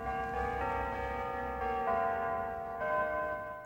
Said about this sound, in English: Bells chime from a church steeple.